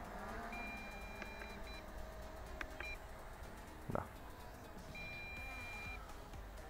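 Faint low-battery warning beeps from an MJX Bugs 3 brushless quadcopter drone sound intermittently over its steady whirring motors and outdoor background noise, with a brief louder bump partway through.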